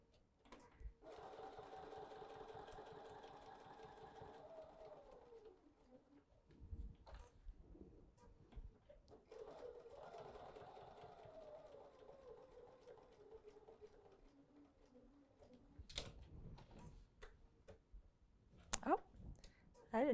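A sewing machine stitches hot pads in two long steady runs of rapid mechanical whirring, with a pause and a few clicks and handling taps in between.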